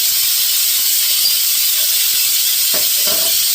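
A pressure cooker cooking for a Kerala-style beef fry gives off a loud, steady hiss of escaping steam. The hiss runs unbroken throughout, with a few faint clicks beneath it.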